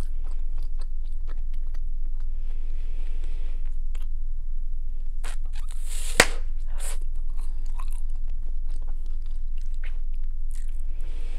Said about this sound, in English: for bubblegum, you have to really chew a long time